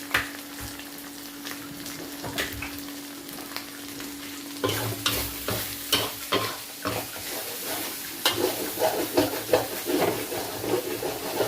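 Chili fries in a little oil over low heat for a snakehead fish curry, a steady close sizzle broken by repeated scraping stir strokes that grow busier and louder partway through.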